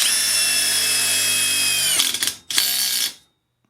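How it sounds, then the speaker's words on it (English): A Makita TD172D impact driver in T mode driving a screw, a loud whirring buzz for about two seconds, then rapid hammering bursts with a short break before stopping. "let's see if we can recycle this screw here"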